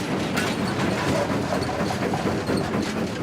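Steady rumbling and clattering of a steam locomotive climbing a hill with the regulator opened up, loud and continuous, with rhythmic mechanical chugging and wheel noise throughout.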